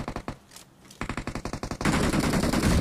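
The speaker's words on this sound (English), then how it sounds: "Shots, grenades, all of that ringing right through" Gunshots and grenade blasts in a competitive online shooter match: sharp repeated bursts of automatic fire, then a dense, loud barrage of sustained shooting and explosions with no talking.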